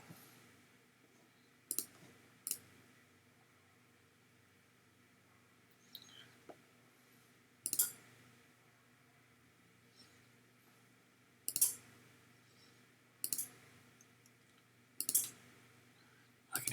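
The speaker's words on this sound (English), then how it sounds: "I can hear things clicking in there," Relays inside an LDG automatic antenna tuner, the internal tuner of a Ten Tec Pegasus transceiver, give sharp, faint clicks in scattered single and double bursts over a quiet hum.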